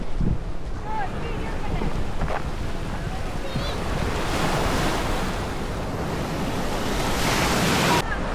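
Steady rushing surf washing ashore at Kalpeni island, with gusty wind noise across the microphone, continuous and fairly loud throughout, with faint voices briefly audible in the background.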